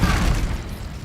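A fiery Incendio spell blast in Hogwarts Legacy bursts out as a loud, close, rumbling whoosh that fades quickly, with no talking.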